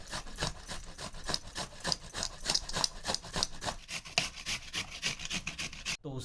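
Ingredients for a sweet dish wrapped in turmeric leaves are grated by hand, with fast, even rasping strokes heard up close. The strokes run steadily for about six seconds, then stop abruptly.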